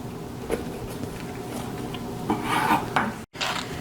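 Raw turkey breast torn away from the bone by hand, a close, continuous rubbing and tearing with a brief louder crackle near the end and no talk.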